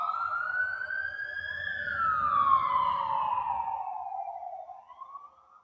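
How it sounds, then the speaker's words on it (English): An ambulance siren passes slowly at night, a steady rising and falling wail that swells closer, then bends lower in pitch and fades as it moves away, with no talk. "It's got to be the slowest I've ever seen an ambulance pass."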